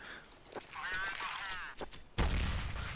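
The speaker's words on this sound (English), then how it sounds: "There's a little like explosion effect going on there." An HE grenade explodes in Counter-Strike: Global Offensive, a single sharp, booming blast near the end that follows a stretch of quieter game sound with a voice speaking.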